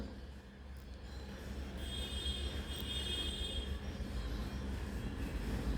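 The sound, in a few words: amusement park dragon toy train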